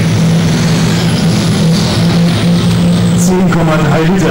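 The 10.3-litre engine of a pulling tractor in the Standard 6t class at a tractor pulling event in Füchtorf, 2004, roars loud and steady with a deep sustained drone, while an announcer talks over it.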